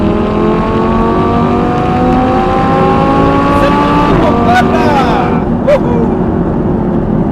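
An Audi R8 LMX is driven hard on a track. Its engine drones loud and sustained with shifting pitch, then comes a brief braking moment with a light squeal near the end. Engine noise fills the whole stretch.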